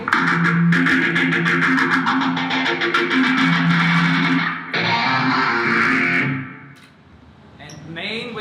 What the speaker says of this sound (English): Phase 90.